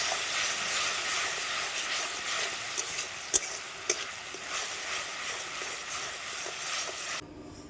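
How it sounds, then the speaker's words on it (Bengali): Sponge gourd fries in a pan with a continuous loud hissing sizzle, broken by a few sharp utensil clicks near the middle, before the sound cuts off abruptly at the end. "সব শেষে ধুন্দুল ভাজা চাপিয়েছি।"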